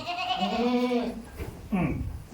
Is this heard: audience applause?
no